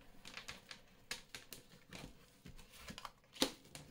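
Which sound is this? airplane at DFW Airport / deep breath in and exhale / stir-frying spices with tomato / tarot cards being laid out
tarot cards being laid out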